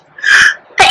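One person gives a single sneeze: a sharp inhaled build-up, then a brief pause and a loud burst at the end, up close.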